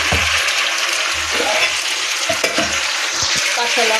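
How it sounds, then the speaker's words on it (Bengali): Potatoes being sautéed and stirred in a hot pan for a spiced potato curry, with a loud, continuous sizzle close by and repeated scraping knocks of the spoon against the pan. "এবারে আমি সুন্দর করে কষে নেব, আলুটা কষে নেবো সুন্দর করে"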